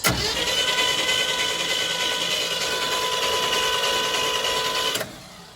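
A straight-six engine with no compression spins over on the starter, a steady, loud mechanical whir with even rhythm that runs about five seconds and then cuts off abruptly, with no speech.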